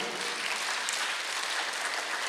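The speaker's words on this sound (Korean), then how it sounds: "박수를 보내야 되지 않아요? 잘하는 사람에게?" A church congregation at a Korean Sunday worship service gives dense, continuous applause, loud and filling the room with no voices above it.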